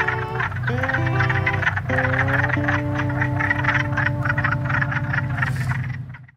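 Frogs croaking in a loud, close chorus, rapid pulsing calls layered with sustained trills, continuing steadily before cutting off at the end.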